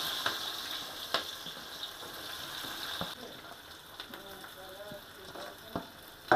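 Onions frying in oil with cinnamon, cloves and cardamom for Kerala-style chicken biriyani: a steady, soft sizzle with occasional stirring clinks and taps, fairly close, with a louder clack at the very end.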